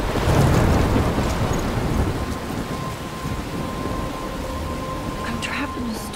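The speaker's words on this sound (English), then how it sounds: "I'm trapped in a storm?" Game thunderstorm in Life Is Strange Remastered: heavy rain hisses steadily while a deep rumble of thunder swells at the start and fades into continuous downpour, with faint tonal game sounds near the end.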